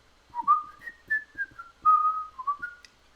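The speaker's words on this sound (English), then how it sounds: "he has me whistling that dang song now" A person whistles a tune. Clear, close melodic phrases with short pauses between notes, heard alone without talk.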